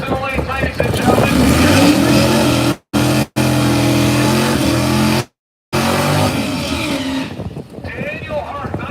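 Fast drag racing cars revving loudly at Great Lakes Dragway, engines roaring and climbing in pitch in the lanes, with brief cut-outs between bursts and a public-address announcer talking over the noise.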